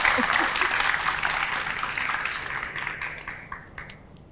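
Studio audience applauding on a Vietnamese TV matchmaking show, a dense steady wash of clapping that holds for about four seconds and gradually thins out toward the end.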